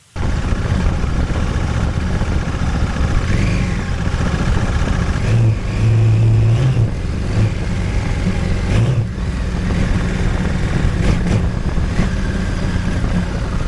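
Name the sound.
motorcycle accelerating uphill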